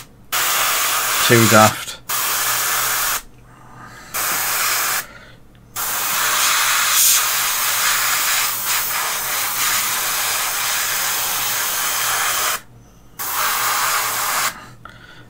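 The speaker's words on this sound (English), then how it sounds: "As I said, this is just off the back of spraying other stuff. I've got some left in the gun." An airbrush-style spray gun sprays primer onto miniatures in loud hissing bursts of varying length, starting and stopping several times, with one long spray in the middle and a brief voice near the start.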